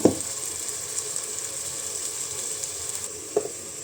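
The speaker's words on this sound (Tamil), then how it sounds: "நம்ம இஞ்சி பூண்டு பேஸ்ட்டை போட்டுக்கலாம்" Ginger garlic paste sizzles steadily in hot oil for mushroom biryani, a continuous close hiss with a couple of brief stirring knocks at the start and near the end.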